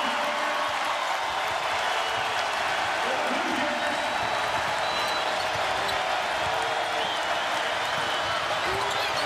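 A packed basketball arena crowd roars steadily through a close Indiana at Iowa Big Ten game, a loud, continuous wash of cheering and noise with commentators talking over it.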